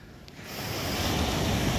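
Ocean surf rolls onto a beach at Tserkovnaya Bay on Shikotan island, a broad steady wash of breaking waves that swells up after a quieter start and stays loud and close, with some wind rumble.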